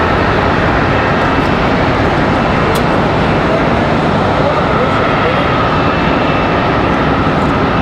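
A jet airliner departs Charlotte Douglas airport bound for Cleveland, its engine roar loud and broadband, holding steady throughout from fairly close range.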